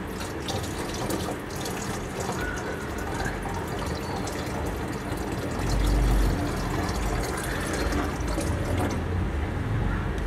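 Well water pours steadily into a small fish tank, a continuous splashing, gurgling stream close up that swells briefly midway and carries on to the end.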